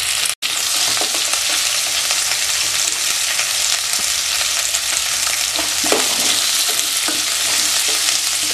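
Onions sautéing in hot oil with salt give a loud, continuous close sizzle with occasional stirring scrapes and a brief cutoff at the start, with no talk.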